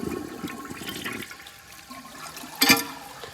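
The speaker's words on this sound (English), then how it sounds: "That was a very weak siphon, but it actually siphons out relatively quickly." A 1956 Case Camel toilet flushes with a weak siphon: a close gurgling rush of water that drains, quiets into a soft trickle, then ends in a short, louder gulp of air and water as the bowl empties.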